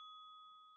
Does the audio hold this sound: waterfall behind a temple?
no